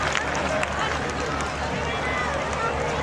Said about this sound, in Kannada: ಒಂದ್ಸಾರಿ ಜೋರಾದ ಚಪ್ಪಾಳೆಯನ್ನು ತಟ್ಟಬೇಕು